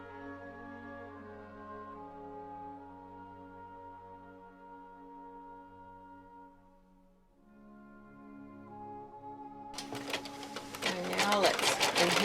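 An embroidery machine stitching applique in silver thread on a quilt block, sustained tonal whirring with steady pitched harmonics, then a louder burst of rapid, busy stitching toward the end.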